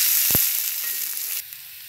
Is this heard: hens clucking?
no